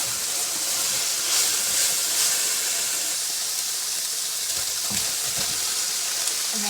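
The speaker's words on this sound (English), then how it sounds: "we're going to go ahead and add in the onions and bell peppers that I chopped. Get those going" Chopped onions and bell peppers fry in a hot pan with a steady, close sizzling hiss that holds evenly throughout, with no talk.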